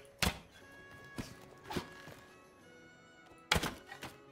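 Arrows thud into a wall in a Mount & Blade Calradia battle game: a sharp impact near the start, two softer knocks in the middle, and another hard thunk with a short rattle near the end, no talking.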